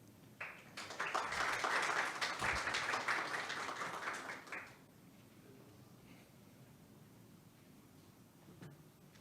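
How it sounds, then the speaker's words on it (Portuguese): An audience at a ceremony breaks into applause, a burst of clapping that swells quickly, holds for a few seconds, then fades into quiet room tone. "E agora convido a todos para dar uma salva de palmas para compor a mesa a secretária Marcela Arruda"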